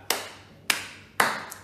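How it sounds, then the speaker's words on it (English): Three separate hand claps ring out sharply in an evenly spaced rhythm, each followed by a brief room echo, with no talking. "Please give me a clap."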